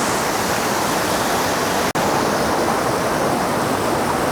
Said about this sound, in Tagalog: lalapit tayo ron sa falls